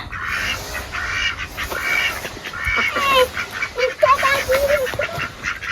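A duck quacks in a village yard, a few harsh calls rising in the middle of the stretch over a steady outdoor background, with people talking nearby.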